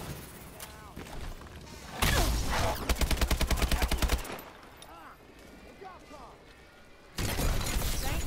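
Rapid burst of AK assault rifle fire in the zombies mode of Advanced Warfare, loud and close, a dense rattle of evenly spaced shots followed by quieter game sounds and a second loud burst at the end.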